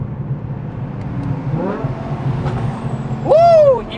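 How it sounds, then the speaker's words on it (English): BMW E63 M6 fitted with Valvetronic Designs universal mufflers, its exhaust rumbling steadily on overrun before a louder sharp crackle and rising rev burst near the end. "Wow, wait, the overrun cracks are nutty."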